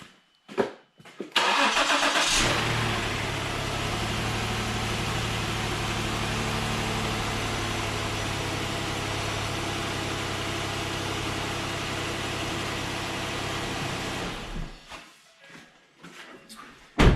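A 2014 Ford Explorer engine cranks and fires after water pump repair work, then settles into a steady, fairly loud idle that runs for about twelve seconds before shutting off, with clicks and handling noises at either end.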